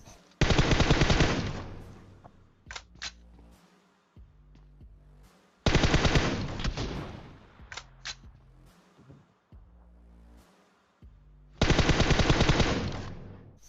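Automatic weapon fire in the PUBG video game, heard as three loud, close bursts of rapid shots about five seconds apart, with quieter clicks and mechanical handling noises between them and no talk.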